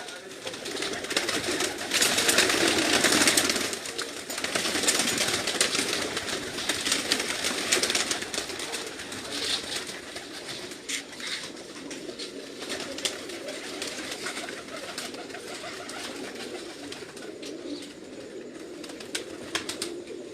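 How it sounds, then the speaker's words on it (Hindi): Pigeons cooing close by in repeated soft throaty calls, with wing rustles and handling noises at times, while someone talks over them throughout. "लो जी ये कबूतर देखो जी।"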